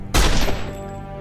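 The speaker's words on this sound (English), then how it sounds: "Let's hit her with the needle gun" A needle gun fires in the Marvel Avengers Alliance video game, a single loud burst of rapid shots that starts abruptly and decays into a ringing tail within about a second.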